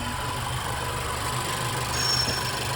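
A Honda car engine idles in a steady, close, low drone with constant vibration and no clear changes over a few seconds.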